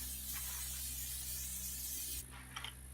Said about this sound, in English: I want to spray a little bit on this griddle.